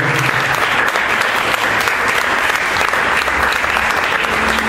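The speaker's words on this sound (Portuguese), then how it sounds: "Vocês podem aplaudir o Senhor?" At a youth church service, a congregation applauds loudly and continuously, with close, dense clapping filling the space with no pause.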